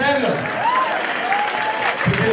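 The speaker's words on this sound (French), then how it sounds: "Donc Rossel, sous applaudissements s'il vous plaît, Rossel." Audience applause fills the hall at the first Afrobal gala in Mons in 2013, a steady wash of clapping with voices or tones sounding over it throughout.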